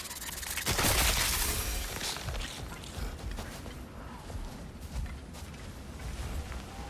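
An exploding enemy in the video game God of War Ragnarok bursts in a single loud blast that fades into lingering rumble, crackle and mechanical clatter.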